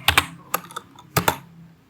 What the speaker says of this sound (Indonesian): Jika sudah, kalian bisa ketikkan sudo netplan apply.